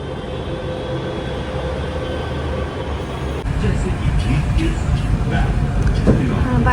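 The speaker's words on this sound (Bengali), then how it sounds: "এটা হচ্ছে জয়পুরের মেট্রো স্টেশন।" A Jaipur metro train rumbles low and steady at the station, its roar swelling louder about halfway through, with faint background voices and clatter.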